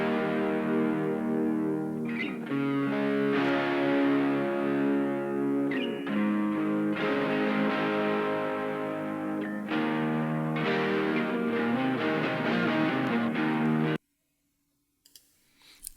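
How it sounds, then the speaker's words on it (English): Raw electric guitar played through a Boss Katana Mini amp, a loud continuous stretch of chords and notes with effect-like coloring, ending abruptly into near silence with faint hiss. "So the raw guitars actually started off sounding like"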